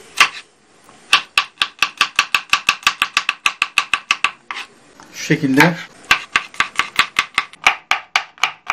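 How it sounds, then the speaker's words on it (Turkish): A knife chops garlic finely on a board in a home kitchen while red peppers are pickled in oil, giving fast, crisp, evenly spaced taps in two runs separated by a brief clatter, with a few words spoken. "sarımsaklarımızı da ince ince doğrayalım"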